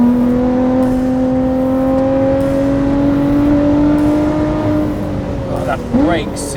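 A Lotus Exige 390 Final Edition engine holds a loud, steady drone close by, then its pitch drops and blips briefly near the end.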